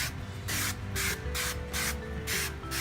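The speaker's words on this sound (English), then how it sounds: "So I'm just going to spray my pan," Extra virgin olive oil cooking spray hisses onto a baking dish in five or six short, even bursts, close and loud, with brief pauses between each spray.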